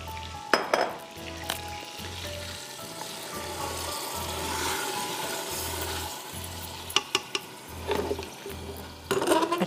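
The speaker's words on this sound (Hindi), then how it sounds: "अच्छी तरह से आप इसको पाँच मिनट, सिर्फ पाँच मिनट भून लीजिए।" Meat frying in a pan, a continuous close sizzle with occasional louder spatters and utensil scrapes, over a regular low electrical pulsing hum.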